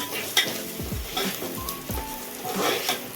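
Moong dal lentils sizzle and fry in hot oil, a continuous crackling hiss with a few soft stirring scrapes and clinks of the pan, close and fairly quiet, with no talking.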